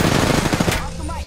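Rapid automatic gunfire from a video game hammers close and loud in a continuous burst, then cuts off abruptly.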